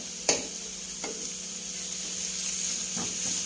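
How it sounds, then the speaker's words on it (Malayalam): Biryani ingredients fry in ghee and oil in a pan, giving a steady close sizzle and hiss with a few light clicks of utensils, no talk over it. "ഇനി ഇതിവിടെ കിടന്നൊന്ന് ഫ്രൈ ആയി വരണം."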